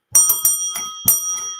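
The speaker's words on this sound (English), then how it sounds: "I really got to fix the bell" A bell rings close by in a series of bright, metallic dings, several quick strikes at first and then a few more spaced out, each leaving a short ringing tail.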